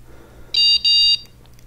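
Electronic alert beeps from a bike radar unit running in demo mode on a Wahoo Element Roam bike computer: two loud, bright sustained tones in quick succession, then fading softer pips.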